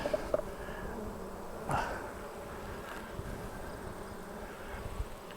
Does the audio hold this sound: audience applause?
no